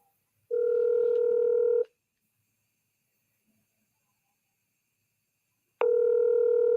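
A telephone dial tone for a radio call-in sounds as a loud, steady, near tone, held for about a second and a half. It then falls silent for several seconds before returning with the same steady pitch at the end.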